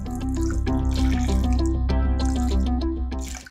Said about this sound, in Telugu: కాస్త మనం చిల్డ్ వాటర్ని యాడ్ చేసుకుందాం